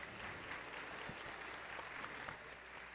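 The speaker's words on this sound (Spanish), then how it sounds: "Les damos un fuerte aplauso, por favor, otra vez para nuestras 4 especialistas" Audience applause fills the room after an education panel on reading and writing at a 2023 academy event, steady dense clapping throughout at moderate loudness with no speech over it.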